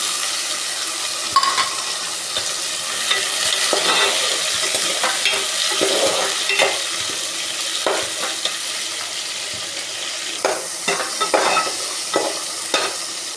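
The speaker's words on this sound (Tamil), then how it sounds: "லைட்டாக வெங்காயம் வதங்கினது நான் தக்காளி போட்டேன்" Onions and tomato sautéing in a pan for a Tamil fish curry, a steady sizzle broken by repeated scraping stirs of the spoon, close and fairly loud, with no talking.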